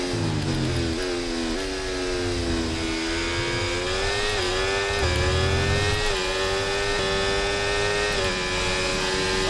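F1 race cars in the game F1 24 scream at high revs, with several engines droning and shifting pitch together in a continuous, loud, layered whine and no talk.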